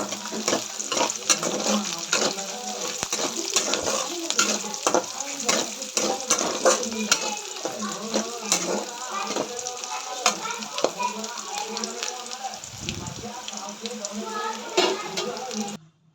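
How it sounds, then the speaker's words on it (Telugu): Chopped carrot pieces frying in a pan, a steady moderate sizzle broken by frequent stirring scrapes and clicks over a long stretch, close and without voices. "నెక్స్ట్ మనం తరిగి పెట్టుకున్న క్యారెట్ ముక్కలు వేయాలి. కొంచెం బాగా ఫ్రై అవ్వాలి."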